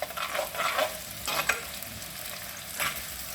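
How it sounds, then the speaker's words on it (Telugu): Onions frying in hot oil for a mutton kheema balls curry, with a soft sizzle under repeated scraping strokes of a spoon, several louder stirs spaced a second or so apart, close up. "ఇలా ఉల్లిపాయలు బాగా ఫ్రై కావాలండి."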